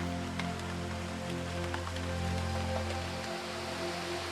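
Steady rain falls in the dense Daintree rainforest, an even hiss of drops on foliage with scattered nearer patters, continuous and moderately loud, under a low constant hum.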